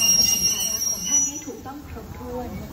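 Passenger train 517 rolls past with steel wheels squealing on the rails, a thin sustained high whine over a low rumble, fairly close and moderately loud.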